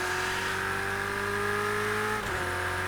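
A Ferrari 488 GTE race car engine in a racing sim drones steadily, oddly like an air-cooled VW Beetle, holding a constant pitch at close range, then briefly dropping as it shifts.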